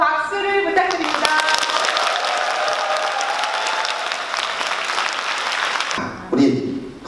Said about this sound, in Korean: 자, 한번 박수를 부탁드립니다.